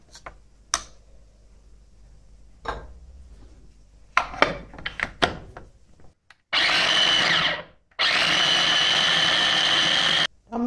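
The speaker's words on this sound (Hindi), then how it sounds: "तो इसलिए हमें दोबारा इसको ग्राइंडर के अंदर डाल देना है" A mixer grinder whirs loudly through corn kernels and water in two long, steady bursts separated by a short pause, preceded by scattered clicks and knocks as the jar is handled.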